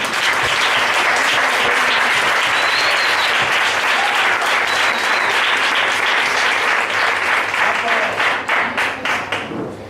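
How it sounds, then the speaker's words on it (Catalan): A crowd at a Falla welcome afternoon gathering in Valencia applauds strongly and steadily, a loud continuous wash of clapping that holds for several seconds before breaking into separate claps and fading near the end. "per a ells este fort aplaudiment"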